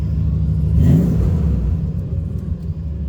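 A Dodge car engine idles close and loud with a deep rumble, swelling briefly in a short rev before settling back to a steady idle.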